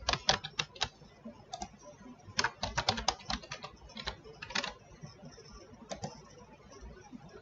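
A password being typed on a computer keyboard, with clusters of crisp, close key clicks in irregular bursts and short pauses between them.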